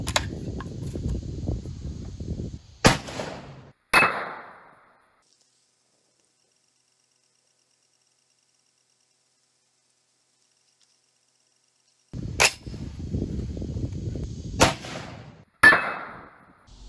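Rifle shots from 6.5 Creedmoor and .308 Win cartridges strike a half-inch mild steel plate. Sharp, loud cracks come in two clusters separated by a long silent gap, over a rough background noise.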